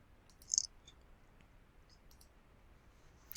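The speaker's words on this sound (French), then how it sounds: "je peux double-cliquer à partir de la recherche que j'ai effectuée" Mouse clicks on a computer opening Microsoft Word: a quick soft cluster of clicks near the start, then quiet, then another sharp click at the very end.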